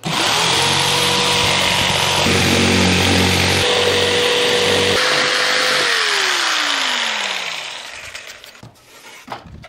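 A power saw cuts out a wooden panel for a camper van build, whining loudly and steadily for several seconds. The tone shifts as the blade works, then the motor winds down and the sound fades into a few small knocks.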